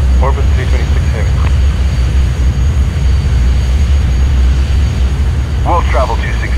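Bombardier CRJ700 jet engines in Microsoft Flight Simulator X give a steady, loud low roar and broadband hiss throughout, with brief air traffic control radio voices heard over it at the start and end.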